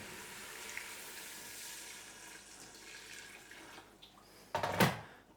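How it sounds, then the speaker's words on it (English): Water pours steadily with a soft hiss into a pan of meat and chicken stock, then a louder splash near the end as it hits the pan. "I'll add some water."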